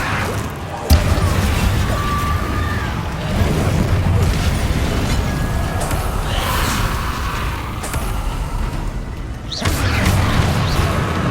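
The Incendio fire spell is cast in Hogwarts Legacy amid constant dense combat noise, with whooshing bursts and crackling booms that swell and fade over the stretch and a few sharp hits standing out.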